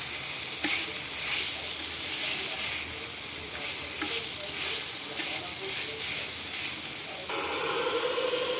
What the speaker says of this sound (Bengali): ক্যাপসিকামটা একটু ভেজে নিচ্ছি।